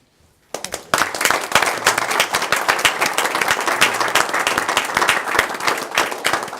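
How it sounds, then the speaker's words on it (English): Audience at a city Board of Mayor and Aldermen meeting in Franklin breaks into applause after a brief quiet start, dense steady clapping sustained through to the end. "could we just give Charles Sargent a round of applause from our city"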